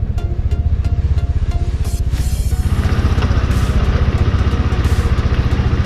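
A motorcycle engine and exhaust thump in a fast, even idle pulse, loud and close, with a rev rising slightly partway through and a little mechanical clatter, no talk.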